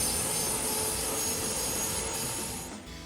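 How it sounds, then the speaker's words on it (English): Steady, loud roar of the HT340 tractor's Lycoming gas turbine engine with a high whining tone, continuous and unbroken, easing off slightly at the end. "The HT340 was equipped with a Lycoming gas turbine engine"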